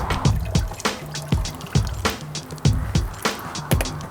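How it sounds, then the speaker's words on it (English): A whole turkey is lifted out of water in a deep fryer pot, giving repeated sharp sloshing splashes and drips at irregular intervals, close and fairly loud, with no talking. "we can go ahead, pull the turkey out, see where the water ends up"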